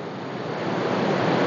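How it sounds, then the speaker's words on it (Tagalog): Water pouring down a small falls in a stream, a steady loud broadband rush with no breaks, close and alone. "Refreshing ang sound sa tubig."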